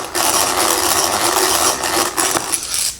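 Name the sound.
countersink drill boring into walnut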